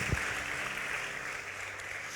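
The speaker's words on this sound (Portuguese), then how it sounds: "Vamos aplaudir a palavra do Senhor" A church congregation applauds after a sermon reading, a steady wash of clapping that fills the whole stretch without any voice over it.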